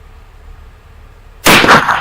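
A single sharp .223 rifle shot fired from a scoped rifle on a bipod, loud and close, bursting out suddenly after near-silence and ringing briefly.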